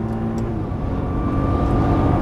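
A Nissan GTR engine drones loudly and steadily on a race track, a close, thick, continuous engine roar with a slight shift in pitch partway through.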